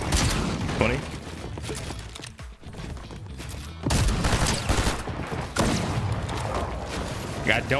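A shotgun fires in the battle-royale game Fortnite during a ranked match, with several sharp blasts among dense gunfire and game action while a player talks over the noise.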